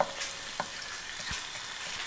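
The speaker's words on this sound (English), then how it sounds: "Once it's sizzling, you can hear that beautiful sizzle." Soft sizzling of garlic in a Dutch oven crackles steadily and quietly, with a few light clinks and scrapes.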